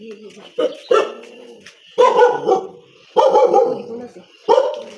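Guard dogs bark at a cashew factory in Malvan, sounding as several loud, close bursts with pauses between them, and people talk throughout.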